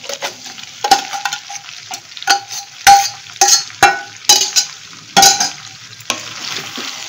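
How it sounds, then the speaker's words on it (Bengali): Chicken being stirred in a kadai for a dhaba-style kadai chicken, sizzling steadily while repeated scraping strokes of a spoon land at an irregular rhythm, close and fairly loud, with no talking. "এবার ভালো করে সব কিছু নেড়ে দিই"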